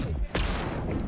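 Harley Quinn's gunfire in an Injustice 2 tournament match cracks out as a sharp shot followed by a rattling burst, loud and close amid dense game noise and crowd or commentary.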